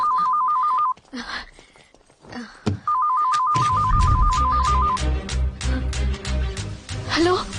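Telephone ringing in an action movie scene, an electronic trilling ring sounding twice, the second burst longer, amid sparse dialogue, then followed by tense music and hits.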